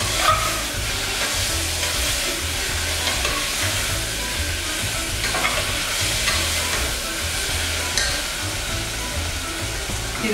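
Chopped coriander and spices sauté in a pan while being stirred, a continuous close sizzle with a steady hiss and periodic scraping strokes; no one speaks.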